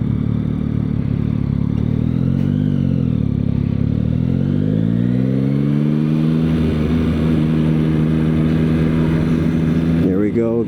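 A Kawasaki Ninja 500 motorcycle's engine hums steadily while riding, its pitch rising and falling as the rider slows and pulls over, with wind noise throughout and someone talking over it.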